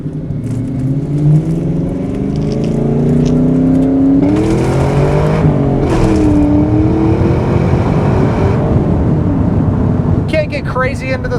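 Engine of a 2003 Ford Mach 1 with a five-speed manual on a test drive, loud and close, pitch climbing through the revs, dipping at gear changes, then settling into a steady drone.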